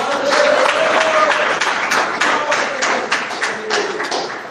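A church congregation claps in rapid, uneven bursts, loud and close, with a voice briefly speaking over the applause.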